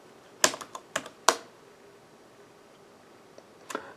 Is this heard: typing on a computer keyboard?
yes